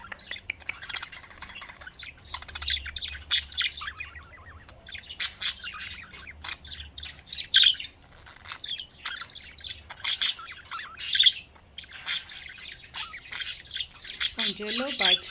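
A young yellow male budgie sings in repeated bursts of chirps and chattering warbles, close and lively, while a person talks softly in between.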